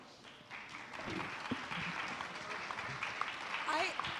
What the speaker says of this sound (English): Could we kindly give them another round of applause?